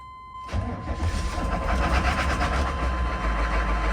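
A box truck engine cranks and catches roughly on a cold start, then settles into a loud, uneven idle that keeps running steadily.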